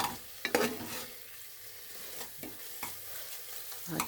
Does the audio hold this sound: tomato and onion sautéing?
yes